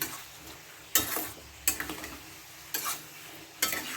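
A spoon stirring raw mango chutney with sugar in a pan, four distinct scraping strokes spaced about a second apart, close and clear over a faint background hiss.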